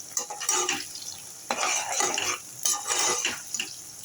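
Onions being stirred and sautéed in a pan, with a utensil scraping and clinking against the metal in short bursts over a soft sizzle, close up and with no talking.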